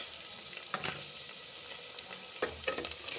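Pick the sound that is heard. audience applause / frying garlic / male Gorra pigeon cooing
frying garlic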